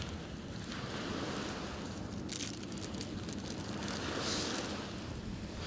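Steady wind buffeting a microphone on the coast during winter sea fishing on the Somerset reefs, a continuous broadband roar with gusts swelling and easing, with no voices.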